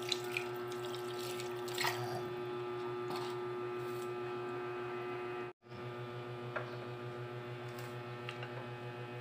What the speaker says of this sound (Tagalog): Lagyan po natin ang kalahating basong tubig.